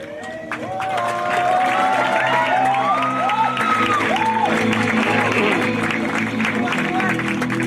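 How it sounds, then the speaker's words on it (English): An under-17 football tournament crowd applauds and cheers steadily for the best defender, with clapping, whoops and shouts staying loud and continuous throughout. "Let's give a huge round of applause for him."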